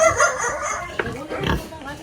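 A pig on a farm grunts in short, close snorts, mixed in with ongoing conversation.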